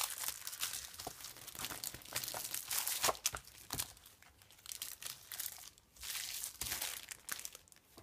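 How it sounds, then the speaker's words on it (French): Sticky tape being pulled, crinkled and crumpled while crafting, heard as irregular crackling and tearing bursts close by, fairly quiet, with no talk. "Je suis engluée dans le scotch."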